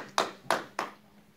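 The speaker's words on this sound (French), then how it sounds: "Applaudissons pour le roi des rois." Three sharp, close hand claps spaced evenly apart at a church Bible study, then silence.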